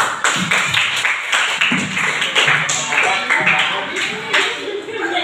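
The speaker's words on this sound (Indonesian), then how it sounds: "beri tepuk tangan buat temanmu." Classroom students clap for a classmate, a burst of quick, uneven handclaps close by, with children's voices mixed in.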